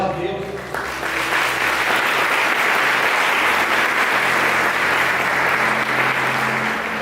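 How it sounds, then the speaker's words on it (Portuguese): Congregation in a Brazilian Catholic church bursting into sustained, dense applause that fills the room for several seconds after a short spoken line, loud and steady throughout. "Aplauda a palavra de Deus."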